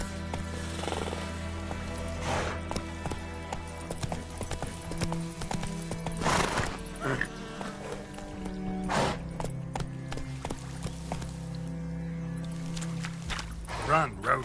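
Hooves of Roach, a horse in The Witcher 3, pound in a steady galloping rhythm under game music and occasional voices, with a few louder hoof strikes and a snort.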